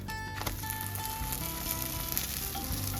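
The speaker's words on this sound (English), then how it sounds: "Listen to the sizzle." A tortilla filled with pork and cheese fries in butter in a pan, giving a steady close crackling sizzle with faint clinks, continuous throughout.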